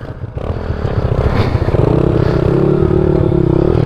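A pit bike engine with a quarter-turn throttle revs hard and climbs steadily in pitch, loud and close, holding a strained high drone as the bike accelerates.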